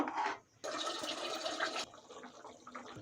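Water pours into a pan of fig and potato curry, a soft splashing gush lasting about a second after a brief gap, then fading into quiet sizzling.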